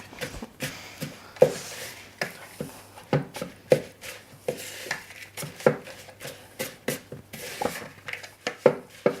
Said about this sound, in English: Bryony is mixing together the flour, the salt, the cinnamon and the baking powder.